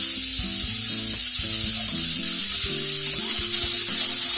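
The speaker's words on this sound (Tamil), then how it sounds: "வெங்காயம் வதங்கிறதுக்கு கொஞ்சமா உப்பு சேர்த்துக்கலாம்." Onions, green chilli and coriander sauté in a hot pan, a steady bright sizzle with soft stirring scrapes and clinks throughout, close and with no talking.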